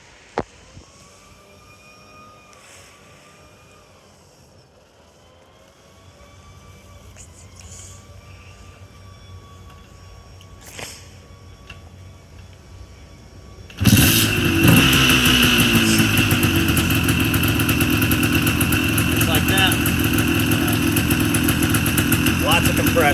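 A 1986 Honda TRX 250R ATV sits quietly through light handling noise, then its two-stroke engine fires and runs at a loud, steady, raspy idle close by.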